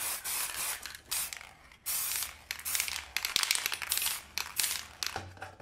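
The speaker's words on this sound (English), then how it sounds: "I'm just using this spray can and I apply 3 coats of lacquer." A spray can applies lacquer to drawer pulls in several short, hissing bursts separated by brief pauses, close and fairly loud, with faint rattles and clicks between the sprays.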